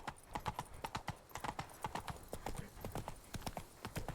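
Roach the horse galloping in The Witcher 3: Blood and Wine, rapid rhythmic hoofbeats drumming steadily and fairly faint throughout, with no talking over them.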